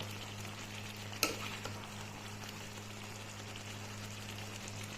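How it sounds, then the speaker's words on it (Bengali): Water goes into a pan of well-fried chicken with boiled eggs for chicken dak bungalow, making a sharp hissing burst that settles into a steady, moderate sizzle. "এখন জল দিয়ে দেব"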